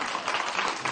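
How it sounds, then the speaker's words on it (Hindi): A studio audience on an Eid special TV game show claps to cast a vote, a short burst of fairly quiet, dense applause lasting about a second. "जिनका वोट इनके हक में वो तालियां बजा के बता दें।"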